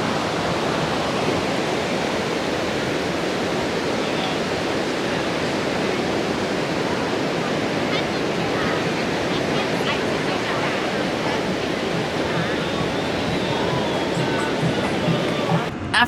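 Ocean surf at New Smyrna Beach, Florida, a dense continuous roar of breaking waves with steady wash and no clear breaks, with people talking beneath it.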